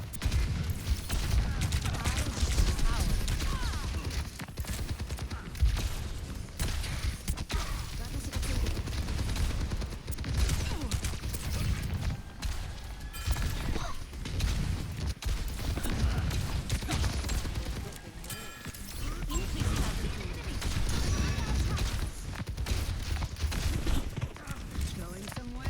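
Overwatch gunfire crackles in rapid bursts and repeated shots against a busy game soundscape, loud and nearly constant, while a voice talks over the action.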